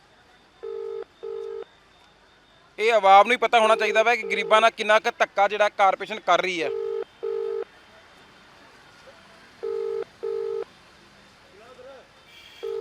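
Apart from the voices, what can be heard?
telephone dialing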